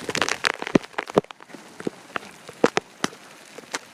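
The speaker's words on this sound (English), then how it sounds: "Right now we've got some hail coming down." Hail and rain fall during a severe thunderstorm in Norman, Oklahoma, sharp irregular pattering and cracking hits landing nearby on a hard surface, clustered then sparse, with no voices.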